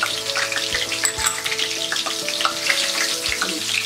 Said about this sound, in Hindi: तेल गरम हो गया, अब हम इसमें डालेंगे ये राई